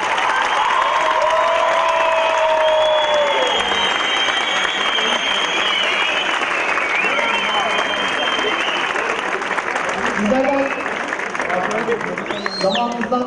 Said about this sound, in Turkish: Değerli misafirler, alkışlarınızı lütfen kuvvetli gelebilir miyim bize?